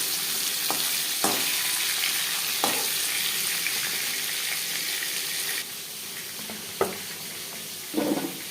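Katla fish frying in oil in a wok, a steady dense sizzle with a few sharper pops and spatters, close and continuous with no talk.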